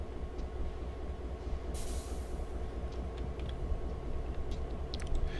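A locomotive slows under braking in the Railworks train simulator: a steady low rumble of rolling wheels, a short burst of air hiss partway through, and faint metallic ticks and squeaks toward the end.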